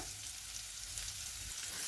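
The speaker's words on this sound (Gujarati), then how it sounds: "હવે આ ટીંડોળાને આપણે ખુલ્લા જ આવા ચડવા દેવાના છે" Ivy gourd (tindora) cooks uncovered in a pan as a vegetable dish, giving a steady soft sizzle and frying hiss throughout with no talking.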